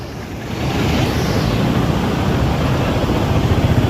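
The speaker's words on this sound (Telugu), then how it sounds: "ఇటు చూస్తే చూడండి ఎంత ఫ్లోటింగ్ పోతుందో" Water pours out through the gates of the Himayat Sagar reservoir in Hyderabad, a loud, dense rushing roar that swells in during the first second and then holds steady.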